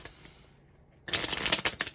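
Small tarot cards from a Halloween deck being shuffled, a brisk burst of close papery riffling and flicking that starts abruptly after a quiet pause and continues steadily to the end.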